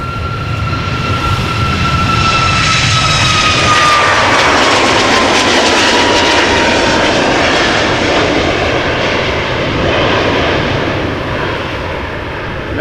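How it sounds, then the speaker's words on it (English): A Norwegian Boeing 737 MAX 8 departing Amsterdam Schiphol, bound for Copenhagen, roars loud and close with a steady rising jet thrust and whining tones, building then sustaining for the whole stretch with no talk. "That was Norwegian Max 8 to Copenhagen."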